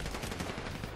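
Rapid bursts of gunfire ring out in the video game GTA V, packed tightly together like automatic weapon fire across a single second.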